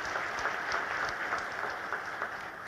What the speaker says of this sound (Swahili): Jamani, naomba tupige makofi jamani.